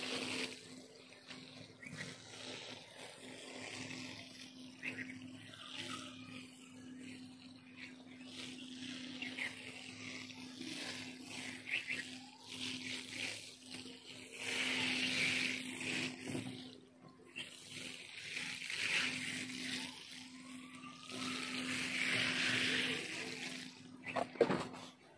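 Water is poured gently onto soil freshly sown with coriander seeds, a soft splashing trickle that rises and falls in several pours alongside a steady low hum.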